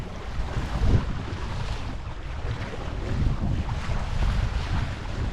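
A sailboat broad reaching on a lake in a north-westerly wind, with steady rushing water and wind noise buffeting the microphone; no voices.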